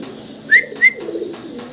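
Lahori pigeons give two short, close coos in quick succession over a faint indoor background.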